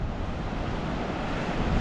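Ocean waves crash and wash continuously onto a Gulf Coast shore, a loud, broad roar with gusts of wind buffeting the microphone and no voices.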